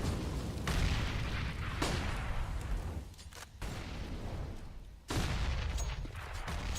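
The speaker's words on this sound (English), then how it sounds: "Loads of grenades." Grenade explosions in CS:GO on the Inferno map, a match between FaZe Clan and Astralis, with several sharp booms and bursts of gunfire-like noise in a dense game soundscape, moderately loud with no talk.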